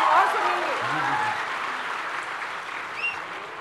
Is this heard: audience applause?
yes